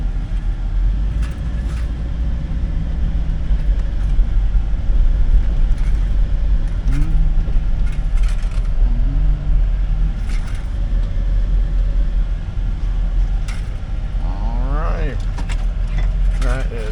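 2003 Hummer H2 with a 6.0L LQ4 V8 idling at a wrecking yard, a steady low rumble throughout, with brief faint voices and clicks over it.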